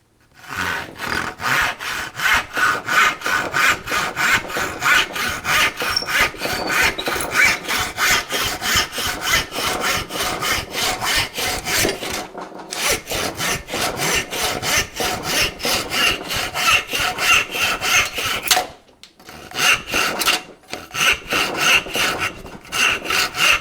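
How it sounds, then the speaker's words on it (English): A dull hand saw cuts through pine before sharpening, making a loud, close rasp in a fast, regular back-and-forth rhythm of many strokes. The sawing pauses briefly twice before carrying on. "I've got a bit of pine here, so it's pretty easy to cut through."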